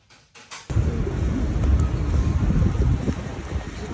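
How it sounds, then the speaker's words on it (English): After a brief click, strong wind buffets the microphone in a loud, continuous low roar. "Windy."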